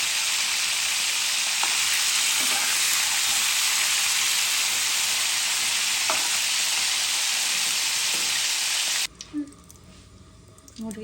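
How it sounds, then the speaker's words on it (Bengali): Chicken pieces fry in hot oil for a morog polao, giving a loud, steady sizzle with occasional stirring clicks for about nine seconds before it drops away to quiet kitchen noise. "দিয়ে দিলাম মাংসটা, ভেজে নিব"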